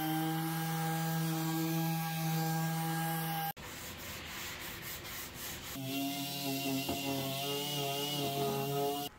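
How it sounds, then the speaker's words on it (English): Power sander working over an old 1930s Art Deco wooden chest: a steady, loud droning whine with a strong tonal hum, briefly cut off and restarted, with rubbing abrasion over the wood in between. "it has to be sanded before finish."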